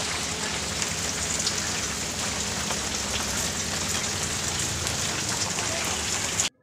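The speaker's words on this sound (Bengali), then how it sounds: "বৃষ্টি পড়েই যাচ্ছে।" Steady heavy rain falls outside, a dense, even hiss of drops on surfaces that runs unbroken at close range and cuts off abruptly at the end.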